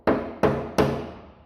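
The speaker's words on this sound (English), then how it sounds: "So my weapon of choice, one tiny little hammer and a screwdriver." A tiny hammer strikes a screwdriver to chip underseal off the underside of a Nissan 200SX S14, giving three sharp metallic knocks at an even pace, close and loud, each ringing out briefly.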